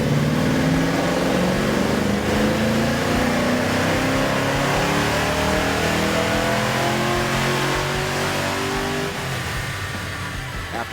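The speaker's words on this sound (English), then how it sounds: "loaded up our Fox body onto the dyno to see what kind of numbers we could get out of our 363" A Ford Fox body fitted with a 363 small-block V8 runs hard on a chassis dyno, its loud engine note climbing steadily in pitch through a long, sustained pull before easing slightly near the end.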